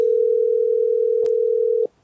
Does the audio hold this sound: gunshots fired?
no